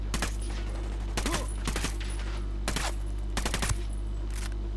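Gunfire in the Ghost Recon Wildlands video game on PS4: several sharp rifle-shot bursts with echoing tails, spaced roughly a second apart, loud over a steady low background hum.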